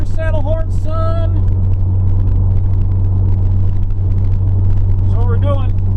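A warmed-up pickup truck drives along a country road with a steady, loud, low engine rumble and road drone throughout, while someone talks over it inside the cab.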